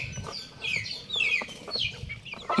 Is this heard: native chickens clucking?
yes